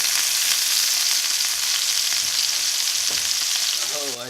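Onions and peppers saute in a cast iron skillet, a steady dense sizzle and crackle running loud and close throughout, with a brief stir or scrape near the end.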